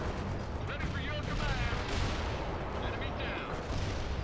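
Artillery shell fire in the World in Conflict strategy game, including a white phosphorus round: a dense, continuous roar of booming blasts and gunfire, loud and unbroken for the whole stretch.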